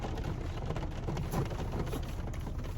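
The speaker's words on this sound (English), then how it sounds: "Tonight it's pissing down with rain." Heavy evening rain pours down in a dense, steady hiss and patter, constant and fairly close with no voices over it.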